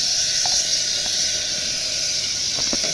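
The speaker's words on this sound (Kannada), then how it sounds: "ಫ್ರೈ ಆದ ನಂತರ ರುಬ್ಕೊಂಡಿರೋಂಥ ಮಸಾಲೆನ ಹಾಕ್ಕೊತಾ ಇದ್ದೀನಿ" Ground masala hits a hot pan with curry leaves and asafoetida, giving a loud, steady hiss of sizzling that holds evenly throughout with a few small scrapes.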